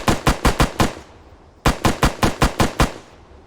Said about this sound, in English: semi-automatic firing